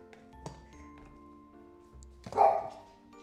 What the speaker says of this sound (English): What are you barking at, Truffle?